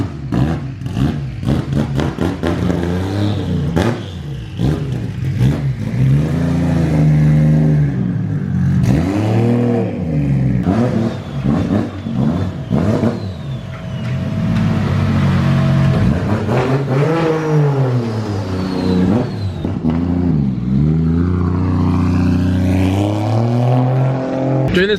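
A car with a 1.5JZ engine revs repeatedly under load, loud and close, with rising and falling engine pitch sweeping through several pulls, separated by brief lulls.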